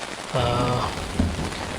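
Steady rain drums on a camping tent near Ella, Sri Lanka, a dense, even patter that stays close and constant throughout, with no talking.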